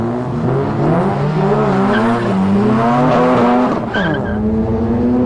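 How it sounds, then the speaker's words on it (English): A Mazda Series 3 RX-7 with a turbocharged 13B rotary engine running on LPG, driven hard with a loud, continuous engine howl and squealing tyres, close up, with no talking. "Tully rolled up in his 13B Turbo Series 3 RX-7"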